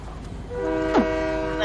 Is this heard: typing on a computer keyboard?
no